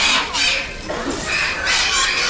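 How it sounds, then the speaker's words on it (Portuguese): A Brazilian macaw squawks in harsh, raspy bursts at close range, heard while visiting a zoo area where the animals roam free. Outdoor background noise runs underneath. "Essa aqui é a arara brasileira, não é?"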